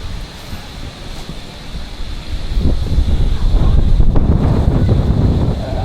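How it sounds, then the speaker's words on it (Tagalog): Strong wind buffets the microphone in a steady low roar that swells louder midway through, with no voices over it. "Lakas ng hangin."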